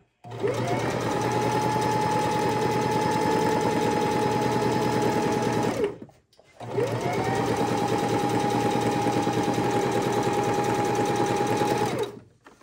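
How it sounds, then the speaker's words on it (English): A sewing machine stitches fabric for a cosplay skirt, running loud and steady in two long continuous bursts with a short pause between them. "And now we're gonna stitch."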